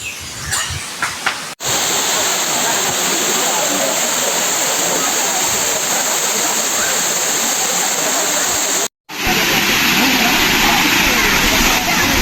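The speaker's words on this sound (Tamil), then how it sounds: "இது கைலாஷ் கோனே ஃபால்ஸ் வந்திருக்கிறோம்" Kailash Kone waterfall roars as a loud, steady wash of falling water close by, briefly cut at the start and once in the middle, with a voice heard faintly before the roar.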